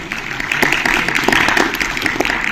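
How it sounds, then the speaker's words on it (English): A crowd claps together in a dense, continuous burst of applause, loud and steady throughout. "we'd like to give them a big round of applause"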